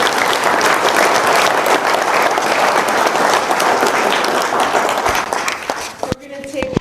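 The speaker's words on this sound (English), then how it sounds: "big round of applause for Rob" A seated audience at a green infrastructure talk breaks into loud, sustained applause for the presenter Rob, steady clapping for about six seconds before it thins out and stops abruptly.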